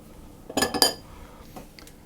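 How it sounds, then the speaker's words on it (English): Metal mixer beaters knock against a mixing bowl to shake off cookie dough, two sharp close clinks in quick succession followed by a softer tap, with no talking. "So I'm going to just get the excess off the beaters."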